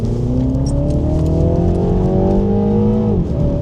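A tuned Mini Cooper (John Cooper Works, Stage 1, about 270 hp) revving up hard, pitch climbing steadily under acceleration before dropping sharply near the end as it shifts, loud and close.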